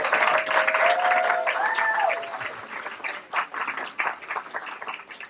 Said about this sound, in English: Let's give them an encouraging round of applause.